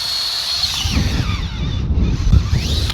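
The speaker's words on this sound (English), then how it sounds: "Get a big giant electrical wood boring bit, 18 inches, ½ inch, drive that down the ground all the way" An electric drill turns an 18-inch, half-inch wood boring bit down into wet ground, giving a steady, close grinding whir with rough low rumbling throughout.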